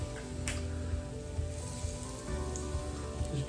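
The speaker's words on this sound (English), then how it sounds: "you can hear it sizzling, that's a great thing." Yorkshire pudding batter sizzles and crackles in hot oil in a baking tin, a steady close frying hiss with small pops and no talk.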